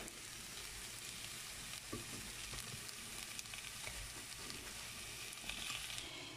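Meatballs and vegetables fry together in a pan, giving a steady, close crackling sizzle with small pops and stirring scrapes throughout.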